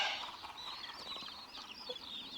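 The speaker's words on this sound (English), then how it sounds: "Our chickens here should give us some eggs that we can go store." Chickens cluck and chatter softly at a farm, a steady, faint cluster of bird calls running throughout without any talking.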